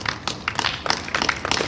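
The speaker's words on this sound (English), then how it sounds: "I guess that does deserve a hand clap." An audience at the inauguration of the Black Impact Alliance Foundation gives a short, scattered round of hand clapping, lively and fairly close.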